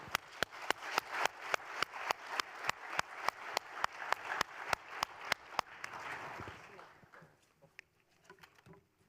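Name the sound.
audience applauding the panel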